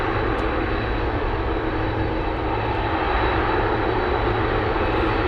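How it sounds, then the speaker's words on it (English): A UPS Boeing 747 cargo jet arriving at Anchorage on a gusty day gives a loud, continuous engine roar that stays even and close throughout, with wind noise mixed in and no voices. "UPS 747 flying in from Kentucky."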